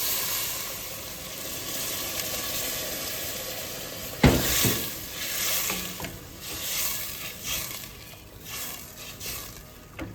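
Steady bubbling sizzle of onion soup simmering in a pot, with a few clanks and stirring noises midway, no talking.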